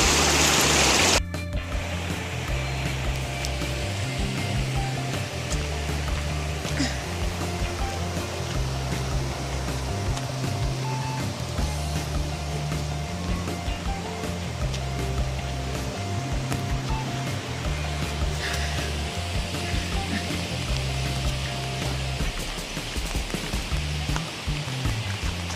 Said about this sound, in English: So that was the Mavis Bank River